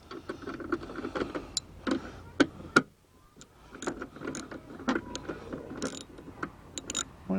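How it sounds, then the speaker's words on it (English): A socket wrench clicks and ratchets while tightening wiper motor bolts on a Ford E-250 van, with a string of faint mechanical clicks, taps and creaks in an uneven rhythm, close by, with no talk. "There's our socket here just to help tighten them in a bit."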